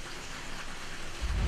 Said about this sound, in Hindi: इस्लामाबाद और रावलपिंडी में सुबह से ठंडी हवाओं के साथ हल्की बारिश से मौसम खुशगवार हो गया है।